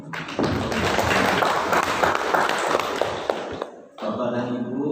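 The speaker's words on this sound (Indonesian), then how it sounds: "Tepuk tangan." Applause from the audience at a high school farewell ceremony for graduating students, a dense wash of clapping lasting about four seconds before it cuts off and a voice begins speaking.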